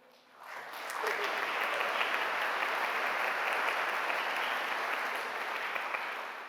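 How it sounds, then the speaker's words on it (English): At a Maryville College convocation ceremony, an audience's applause swells quickly from quiet into a broad, sustained roar of many hands clapping, then eases slightly toward the end. "when they have been recognized, we'll thank them with applause."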